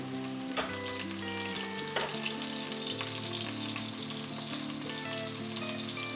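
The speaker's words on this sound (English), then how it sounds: "Once your oil is hot, you're going to pop your meatballs in very gently." Herby chicken meatballs fry in hot oil over a high flame, a steady close sizzle with scattered pops and crackles throughout, no voices.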